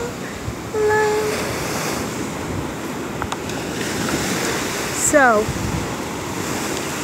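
Steady broadband wash of ocean surf at a seashore runs throughout, with a brief bird call and a voice speaking over it partway through.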